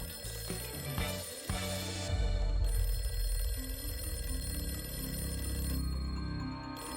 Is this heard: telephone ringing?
yes